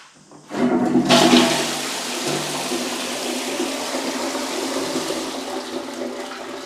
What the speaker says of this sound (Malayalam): അപ്പോൾ ഒന്ന് ഫ്ലഷ് ചെയ്യണം.